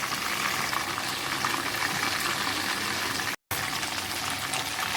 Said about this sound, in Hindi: चिकन को फ्राई होते हुए 3 से 4 मिनट हो गए हैं।